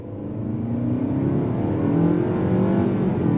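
A 2022 Nissan Altima Midnight Edition sedan in sport mode and automatic drive accelerates hard from a standstill. Its engine note rises steadily and grows louder over a few seconds, heard close with no talking.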